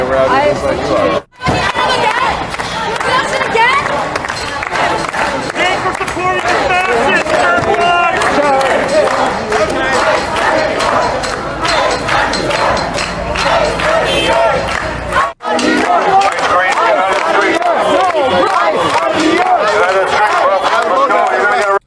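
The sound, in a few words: protesters outside clapping and making noise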